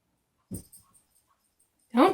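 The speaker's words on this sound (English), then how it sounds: "Don't dogs make the weirdest noises?" A dog makes odd short snorting, whimpering noises close by: two or three quick sniffy bursts, a pause, then a louder whiny grumble at the end.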